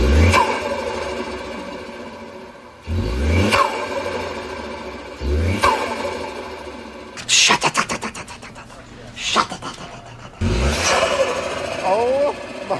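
A Ford Bronco Sport fitted with a K&N cold air intake cranks over several times, then starts and revs loudly in repeated bursts with turbo noise, close up.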